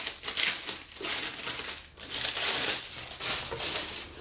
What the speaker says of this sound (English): So I'm gonna take it out of this plastic really quick